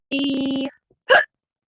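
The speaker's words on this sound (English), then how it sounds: "Oh, hiccup." A person hiccups up close during a casual medical Q&A chat: a sustained voiced tone followed by a short, sharp gulping burst, with no other talking.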